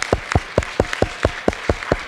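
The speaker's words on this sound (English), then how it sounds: "So applause again to our speakers." Conference audience applauding the speakers, heard as a sparse, regular series of about nine distinct claps in an even rhythm, fairly close and crisp in a quiet hall.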